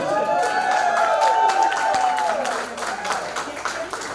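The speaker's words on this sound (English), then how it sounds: "A loud round of applause." An audience applauds loudly under a ringing, reverberant voice, the clapping continuing throughout and fading slightly toward the end.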